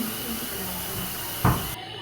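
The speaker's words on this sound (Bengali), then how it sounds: "ওই তেলের মধ্যে আমি কুমড়োগুলো দিয়ে দিলাম" Pumpkin pieces are added to hot oil in a pan, giving a steady close frying hiss with a sudden louder sizzling burst near the end.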